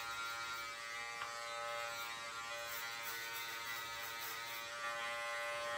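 Barber's hair clippers cutting a high fade, a steady close electric buzz that runs the whole time with faint scraping through hair and no talking.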